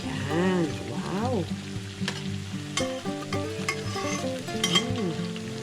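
Squash and shrimp okoy fritters sizzle steadily in a frying pan of oil, a continuous crackling bed with occasional clinks as they are turned; a voice is heard briefly in the background.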